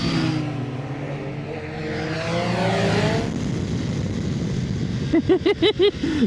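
A KTM 790 Adventure motorcycle ridden hard on a race track: a loud, close engine note climbs steadily in pitch as it revs, then a run of short, sharp rising bursts follows near the end.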